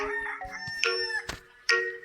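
Several rooster crows from the video game Duck Life: Battle overlap in a short burst, tonal and synthetic-sounding, with sharp onsets against a quiet background.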